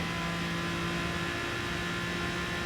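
Aston Martin DBR9 race car in Gran Turismo Sport, its engine a steady, continuous droning whir with a constant hum, held at a fairly even level throughout with no voices.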